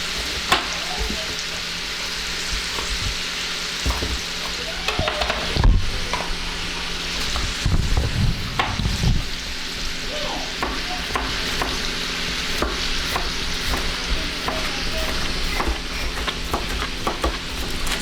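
Food browning in a hot pan on a Southern home stove, a steady loud sizzle and frying hiss with intermittent stirring scrapes and clatters throughout.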